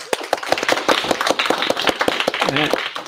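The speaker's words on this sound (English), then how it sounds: "Let's applaud for Joakim for helping us with this." An audience at a live tech meetup applauds a speaker, with a cluster of sharp, fairly close individual claps forming a loose, uneven patter and a voice heard briefly near the end.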